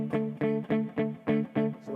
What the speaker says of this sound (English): it's a right hand strumming hand technique where as you strum, you lightly rest the edge of your palm against the strings